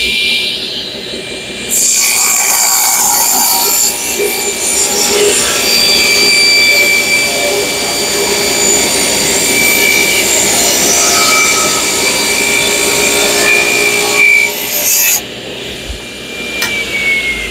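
A table saw cuts a groove in a piece of wood: the blade spins up with a rising whine, grinds loudly and steadily through the board for about twelve seconds, then winds down at the end.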